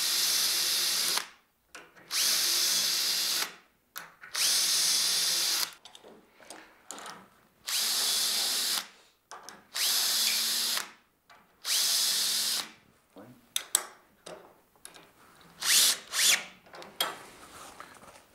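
A cordless drill drives door hinge screws in repeated short bursts, about nine loud, close whirs separated by pauses, the last ones quicker and choppier as screws seat.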